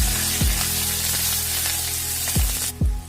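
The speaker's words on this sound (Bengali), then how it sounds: "তো আমি পেঁয়াজগুলোকে একটু লাল করে ভেজে নিলাম।" Onions frying in oil in a pan make a constant loud sizzle, broken by a few low thuds as the pan is knocked or stirred.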